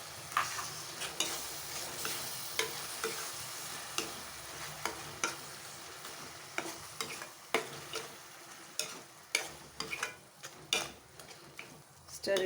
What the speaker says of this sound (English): Into this, I'll put in this bowl of tomatoes which we have chopped up, about 4 tomatoes. Stir that very well.